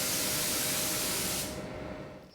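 PPG Vibrance clear coat being sprayed from a paint gun, a steady loud hiss that runs for about one and a half seconds, then cuts off and leaves a fading airy tail.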